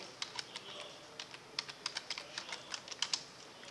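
Computer keyboard typing, including a press of the F2 key, a quick uneven burst of sharp key clicks, quiet and close, with a few short pauses between keystrokes.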